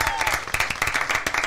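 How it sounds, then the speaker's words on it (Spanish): Audience at a live acoustic concert claps in a fast, dense burst, with crowd noise and talk mixed in. "Tu gente te lo reconoce y te da este aplauso"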